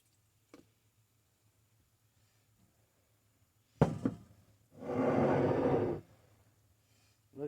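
Four Thieves vinegar strained out of a slippery jar: a faint knock, then a sharp clink, and about a second of steady pouring and splashing liquid, nearby in a quiet room.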